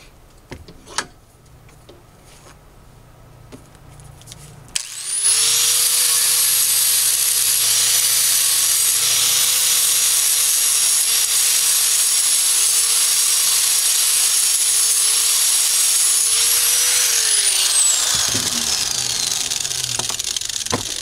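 A lawn mower blade has its nicked edge dressed on a grinding tool, a loud, steady whine holding for about twelve seconds after a quiet start, then winding down.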